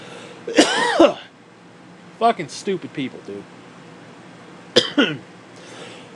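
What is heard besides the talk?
coughing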